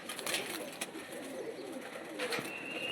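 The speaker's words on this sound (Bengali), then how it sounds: "পায়রাটা দেখুন কতখানি বড় সুন্দর একটা বড় সাইজের" Large Kanpur-bred pigeon cooing softly nearby, low murmuring calls over a steady background hiss, with a couple of brief sharper sounds.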